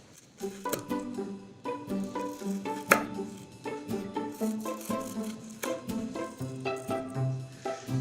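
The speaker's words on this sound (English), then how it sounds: "we are going to cut it in slices" A knife cuts a baked log of chocolate anise biscotti into slices on a board, giving a steady run of crisp, close chopping knocks that repeat roughly every half second with no talking.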